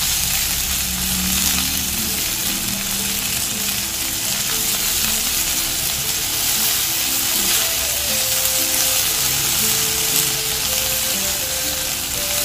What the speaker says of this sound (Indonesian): tumis terasi